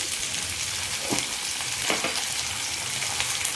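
Cumin seeds sizzle in hot oil in a pan as a green chili and gourd chutney is fried, giving a steady, close crackling hiss with a few louder spits and stirring sounds.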